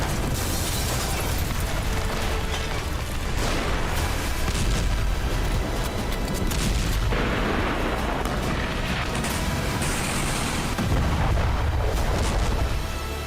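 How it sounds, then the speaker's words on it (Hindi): Heavy booming blasts and crackling bursts of gunfire overlap in a dense, chaotic barrage in a war zone, loud and sustained with repeated deep explosions. "गोलियां चल रही हैं, बम धमाके हो रहे हैं।"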